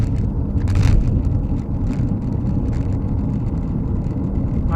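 A 2018 Honda CR-V's engine hums steadily with road noise, the sound swelling briefly early on as it pulls away from a junction, then settling into a constant drone.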